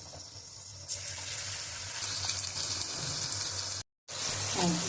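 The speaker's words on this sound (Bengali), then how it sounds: "তেল গরম হয়ে গেছে, এবার আমি একে একে পকোড়াগুলো ভেজে নেব।" Cabbage and onion pakoras fry in hot oil with a steady, dense, close sizzle that hisses continuously and cuts out briefly near the end before resuming.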